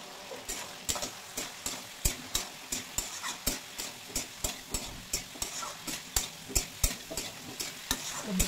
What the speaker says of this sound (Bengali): সবজির সঙ্গে মশলা আবার একটু ভালোভাবে ভেজে নেব।